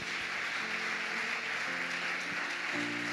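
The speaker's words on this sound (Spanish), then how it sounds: "Dale un aplauso fuerte a Cristo" Congregation applause during a Spanish-language church sermon, a soft, distant patter of clapping heard faintly throughout, with sustained musical tones from instruments rising underneath.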